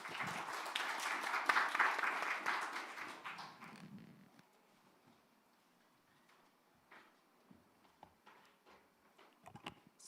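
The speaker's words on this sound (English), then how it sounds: "please let us thank with a round of applause the two speakers for this session." An audience at a panel session on environmentally sustainable minerals management applauds the two session speakers. The clapping is dense and fairly close for about four seconds, then fades into scattered light taps and quiet room noise.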